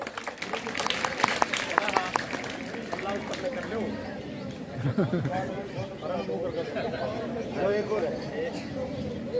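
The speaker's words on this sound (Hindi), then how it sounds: "जोरदार तालियां इन बच्चों के लिए।" Scattered clapping rises from a crowd amid chatter and a speaking voice at an Independence Day school event as children receive medals, brief and uneven rather than a sustained ovation.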